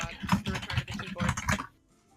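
Fast typing on a computer keyboard, a close flurry of clicking keystrokes that stops abruptly near the end, leaving near silence.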